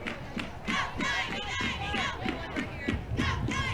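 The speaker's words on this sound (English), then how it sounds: "Hatters dugout trying to cheer on McLaren, get her going." Players in the Stetson Hatters dugout chant and cheer on their batter during a college softball game against Florida State. The voices are loud, steady and overlapping, forming a continuous crowd rally cry.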